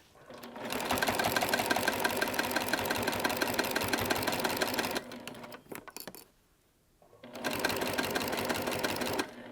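A sewing machine stitches a fabric project pouch in close, loud, steady runs, pausing briefly for a pivot with a few soft clicks before resuming its rapid rhythmic whirr.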